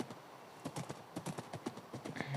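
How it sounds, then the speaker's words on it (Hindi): Horse hooves clip-clop in the Minecraft video game, a steady run of quick rhythmic hoofbeats close and clear with a faint tonal game sound near the end, no talk. "गलती से मैं अपना घोड़े से उतर गया"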